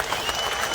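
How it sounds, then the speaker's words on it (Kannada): An audience at a public speech claps together in a brief, dense burst of applause. "ಸ್ವಲ್ಪ ಜೋರಾಗಿ ಚಪ್ಪಾಳೆ ಮೂಲಕ ಧನ್ಯವಾದ ಸಲ್ಲಿಸ್ರಿ."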